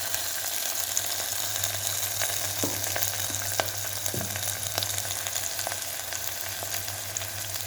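Vegetables with tomato sautéing in hot oil in a pan: a steady, close sizzle with occasional light clicks of stirring, no voices.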